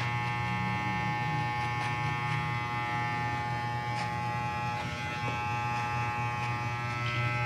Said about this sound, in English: Hopefully no one tries to hurt me for shaving off your beard, man.